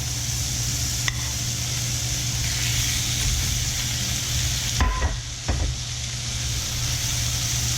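Ribeye steaks searing in a hot pan give a loud, steady sizzle and hiss that fills the clip, with a couple of brief clanks as the meat is moved.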